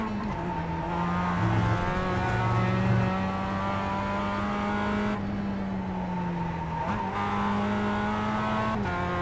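A Mazda car is driven hard through corners, its engine holding a steady drone that rises and falls with throttle, with brief tyre scrub heard close up inside the cabin and no talk.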